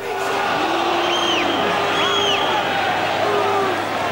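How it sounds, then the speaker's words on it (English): A large football crowd barracking at Manchester United v Liverpool, a steady loud roar with rising and falling chants and jeers, while a commentator talks over it. "he's had to put up with a fair amount of barracking from the crowd today"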